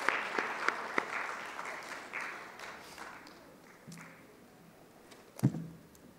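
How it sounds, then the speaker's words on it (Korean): Church congregation applauding during a Sunday service, a burst of clapping that starts loud and fades to scattered claps, with a sharp knock near the end. "다시 한번 큰 박수 드립시다."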